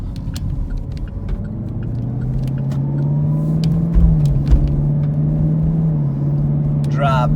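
A car drives through the Sequoyah Hills area of Knoxville with a steady engine hum and road rumble that rises slightly as it accelerates, a few soft thumps along the way.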